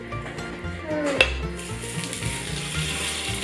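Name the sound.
milkfish belly and milkfish sausage pan-frying, sizzling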